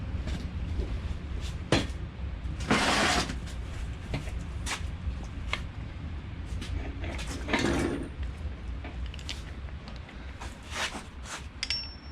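Several sharp metallic knocks of a hammer striking an Allen key ring out at irregular intervals over a background hum, with a couple of louder broadband bursts, close by.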